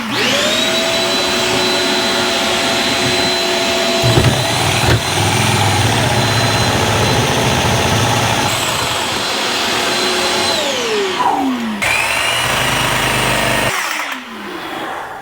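A power tool cutting through an interior trim piece during an RV dishwasher install, giving a loud, sustained whining drone that briefly cuts out and then winds down near the end.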